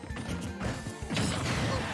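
A down smash attack hits in Super Smash Bros. Ultimate, Wolf against Luigi, with sharp game impacts and a heavy crashing blow about midway, amid busy game effects, with no voices.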